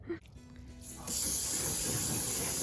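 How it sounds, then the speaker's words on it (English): A brief click, then a hose bursts into a loud, steady hiss of water spraying onto a table outdoors, continuing without pause. "So we are just spraying down this table."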